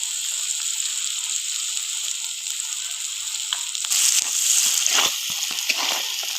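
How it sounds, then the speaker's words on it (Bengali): Onions fry in oil in a pan, browning to a reddish colour, with a soft steady sizzle that grows busier partway through, joined by brief crackles and stirring scrapes and no talking. "পেঁয়াজটা লাল লাল করে ভাজা হয়ে গেছে প্রায়"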